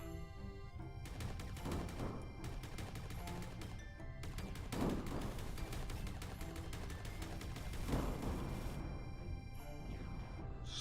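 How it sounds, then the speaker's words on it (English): Bursts of fireworks explode in a video game, with dense crackling volleys that swell around the middle and again toward the end over a constant loud game soundscape. "Pretty fireworks."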